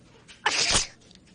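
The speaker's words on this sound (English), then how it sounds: "I sneezed." A single loud, close sneeze bursts out sharply and trails off within half a second, with quiet room tone before and after.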